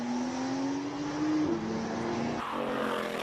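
A Porsche 911 race car with a turbocharged six-cylinder engine drives a hill climb, a steady droning engine note rising slightly in pitch before shifting abruptly, heard from moderate distance.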